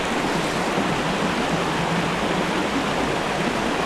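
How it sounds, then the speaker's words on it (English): A waterfall on a rugged Ohio creek pours in a loud, constant rushing roar, a steady hiss of falling water with no pauses and no voices. "Look at the waterfall over there."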